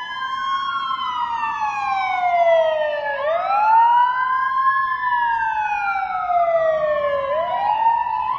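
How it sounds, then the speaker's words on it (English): A wailing emergency siren, matching an ambulance, sweeps slowly up and down in pitch in long continuous cycles, loud and steady for the whole stretch with no voices. "Ambulance."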